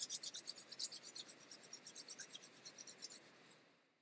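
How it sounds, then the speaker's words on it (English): A pair of hands rubbing together in front of the chest during a yoga class, a quick, even back-and-forth swishing of about eight strokes a second that fades out near the end, soft and close with no voices. "place your hands together in front of your chest and start rubbing them"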